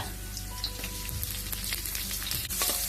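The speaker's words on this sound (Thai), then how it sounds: "เมื่อกระทะร้อน ใส่กระเทียมซอยและหอมซอยลงไปค่ะ" Sliced garlic and shallots fry in hot oil in a wok for a Thai stir-fried noodle dish, giving a steady, close crackling sizzle throughout with no talking.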